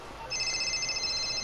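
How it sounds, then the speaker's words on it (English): A phone rings in GTA 5, a steady electronic ringtone tone that starts a moment in and continues unbroken, fairly clear over a quiet room background. "The phone's ringing."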